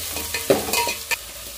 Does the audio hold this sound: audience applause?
no